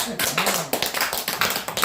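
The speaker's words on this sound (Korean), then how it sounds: "박수 다시 한번" An audience claps together at a lecture during the opening ceremony of a leadership instructor training course, a steady close burst of applause with some voices mixed in.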